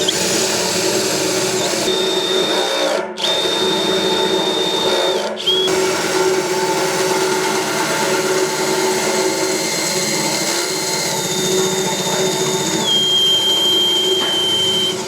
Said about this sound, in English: And we're going to drill where I put the pallet hole is.